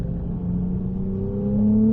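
A Ferrari 298 GTB rated at 820 horsepower hums and gradually rises in pitch as it accelerates on a racing circuit, a steady close motor drone without any speech.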